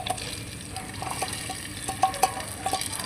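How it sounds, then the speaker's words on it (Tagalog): Fried garlic stirred into a pot of arroz caldo, soft scraping and stirring with a few sharper clinks of a spoon against the pot, faint and close, with a low background sizzle and no talking. "Lalagyan natin ng fried bawang para mas masarap"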